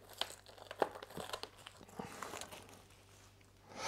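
A plastic-sealed Blu-ray steelbook is unwrapped up close, with soft crinkling and tearing of the film in short bursts, then brief handling rustles.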